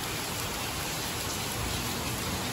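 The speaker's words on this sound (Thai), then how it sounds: "แถวได้ฝนตกมั่งค่ะ" Steady rain pours onto a street in Narathiwat, Thailand, a dense, even hiss of drops that stays loud and close throughout with no break and no voices.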